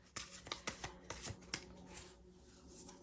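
Tarot cards being shuffled and drawn, giving a quiet run of crisp riffling snaps and soft slides close by, with a few sharper flicks in the first second and a half before the sound settles into a low, steady rustle.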